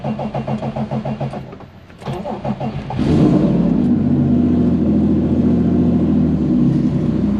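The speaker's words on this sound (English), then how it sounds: "Let's see how many attempts it takes to start her up." An EG33-engined Subaru WRX STI starts after a few seconds of rhythmic starter cranking, then settles into a loud, steady, close idle.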